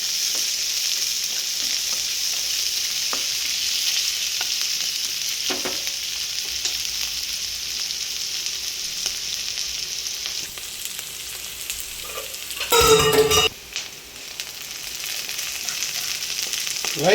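Onions frying in a pan for Tamil sardine tokku, a steady close sizzle with occasional stirring clicks and a brief louder burst of crackling near the end.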